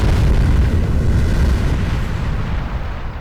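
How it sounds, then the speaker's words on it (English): A real building demolition dressed with special effects explosions, heard as a massive deep roaring blast and rumbling collapse that fills the space and slowly fades. "allowed it to be this combination of real demolition with wonderful dressing of special effects explosions"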